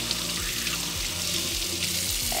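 Hot water running steadily from a tap into a sink with a blocked drain, warming chocolate mold pieces, a continuous close splashing stream with no voices.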